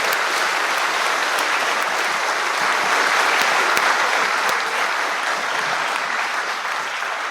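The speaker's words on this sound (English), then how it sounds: "Let's give them another round of applause." A concert hall audience gives sustained, dense applause after an orchestra performance, loud and steady for several seconds with no voices on top.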